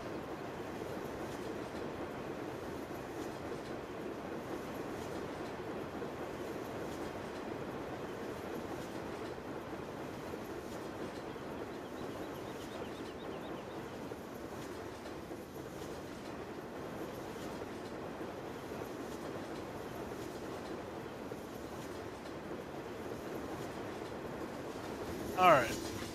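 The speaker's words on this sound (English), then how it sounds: "We got some new trains." CSX freight train rolling past in Farming Simulator 17, a continuous rumbling wash of wheels and wagons with faint clickety-clack, steady throughout with someone talking over it.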